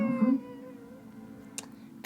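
A pet cat gives a short meow at the start, then a faint squeak follows. It is close and alone, with no talking.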